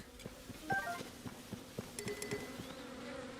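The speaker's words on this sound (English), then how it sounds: "Why am I hearing bees again, too?" Bees buzz in Tears of the Kingdom, with repeated short buzzing bursts and a pulsing drone set among game chimes and effects at a moderate level.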